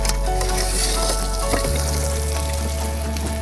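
Shishito peppers and rainbow carrots sizzle loudly and steadily in a hot pan, a dense close crackle with a low hum underneath that shifts partway through.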